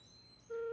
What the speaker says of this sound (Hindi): चाचा घंटी जा रहा है।